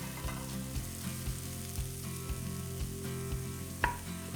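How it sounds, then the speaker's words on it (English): Red onion and leek sweating in extra virgin Greek olive oil in a warm pot, a steady close sizzle with soft periodic thumps of stirring and a sharper clack near the end. "I just like to sweat the onion and leek a little bit, coat them in the extra virgin Greek olive oil."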